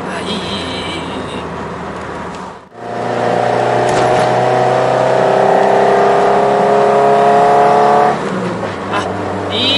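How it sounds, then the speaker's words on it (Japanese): Car engine with intake and exhaust breathing through a new Car's CP1 aftermarket muffler, a steady mid-level drone held for several seconds after a brief dip, smooth and moderately loud, with no talk over it. "この状態であの前からの吸気の音と排気の音がすごくなんかマッチしてる感じがする"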